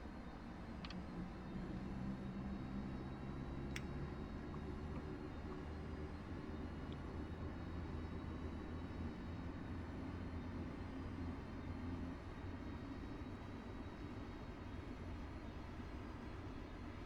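Saab 340 turboprop engines spinning up in a flight simulator, a steady low droning rumble with a faint whine that holds constant throughout, with a couple of tiny clicks early on.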